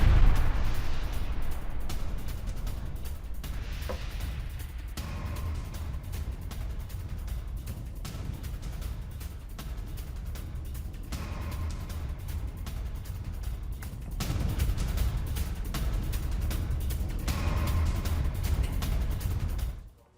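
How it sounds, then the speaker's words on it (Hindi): Simultaneously detonated explosives rumble through a Lebanese village, heavy low booms rolling on and on with repeated bursts, the din swelling again late before cutting off abruptly. "आईडीएफ ने एक साथ डेटोनेट किए विस्फोटक"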